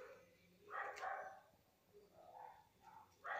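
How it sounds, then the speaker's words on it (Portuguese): Faint neighbor's dogs barking in the distance, a few separate barks and yips spread across a quiet background. "Os cachorros do vizinho latindo."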